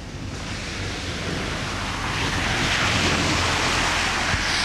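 Sewage water from a ruptured collector floods a street in Odesa region, a steady broadband rushing and gushing that swells slightly over the few seconds, with outdoor wind noise and no voices.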